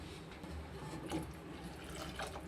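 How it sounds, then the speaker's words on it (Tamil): Water poured into a pan of South Indian egg curry with tamarind, a soft, steady splashing trickle of liquid, faint and close, with no voices. "இன்னும் கொஞ்சம் தண்ணி நம்ம கொஞ்சம் நிறையா ஊற்றிக்கணும்"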